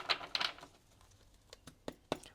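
A deck of tarot cards is shuffled by hand, with a few soft riffling bursts early, then scattered light taps and clicks, close and quiet with no talking.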